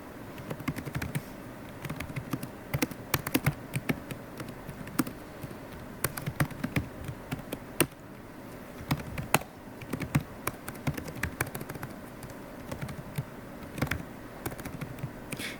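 Steady, close typing on a computer keyboard, with a dense patter of light key taps and occasional louder strokes running continuously.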